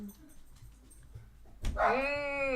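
A dog gives a drawn-out, high whining bark close by after a stretch of quiet room noise, the call held and wavering at the end.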